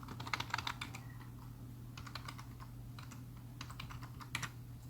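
Data being typed into Excel on a computer keyboard: quiet, quick clusters of key clicks in irregular bursts over a low steady hum.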